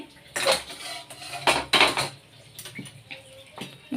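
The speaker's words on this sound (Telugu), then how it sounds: "స్టవ్ ఆన్ చేసి బాండీలు పెట్టి" A karahi pan set on a stove while tempering is prepared for peanut chutney, giving a few loud metallic clanks and scrapes in separate bursts, with quieter clatter between them.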